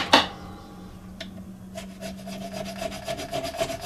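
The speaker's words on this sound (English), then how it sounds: "These are diamond grit files, by the way. So it cuts in both directions." A diamond grit file rasps back and forth across a guitar fret crown on a Schecter 7-string, a close, steady run of short scraping strokes in both directions following a sharp knock at the start.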